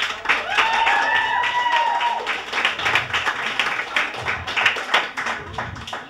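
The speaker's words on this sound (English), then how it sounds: "So I'll give him a big round of applause." An audience claps at a music, song and dance night in a hotel in Inchigeelagh, with a crisp, uneven round of hand claps mixed with crowd noise and a few voices over about six seconds.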